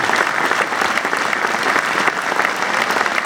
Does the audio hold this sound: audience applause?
yes